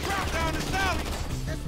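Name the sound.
gunfire in video game GTA 5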